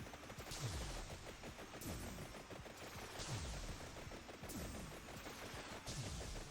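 Automatic weapons in Vampire Survivors fire nonstop in a dense, rapid rattle, with a louder sweeping burst recurring about every one and a half seconds, steady and faint with no talk.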